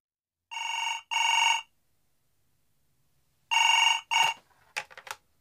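Telephone bell ringing in two short double bursts, loud and clear against silence, followed by brief clicks and handling noise as the receiver is picked up.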